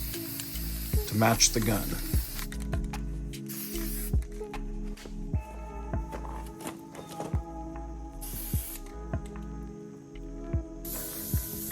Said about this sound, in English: here I'm just using some Rust-Oleum black and doing several coats